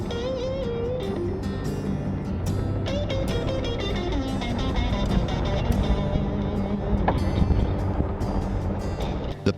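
An off-road vehicle rumbles steadily along a rough gravel mountain pass with many sharp turns through the Namib-Naukluft National Park in Namibia, with constant road and engine noise and wind buffeting the microphone throughout.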